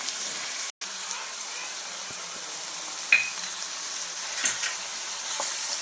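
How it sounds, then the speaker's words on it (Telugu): Sliced onions and green chillies fry in hot oil for an aloo kurma, giving a steady, close, hissing sizzle that runs almost unbroken throughout, with only faint clinks. "ఇది బాగా ఎర్రగా వేయించుకోవాలి"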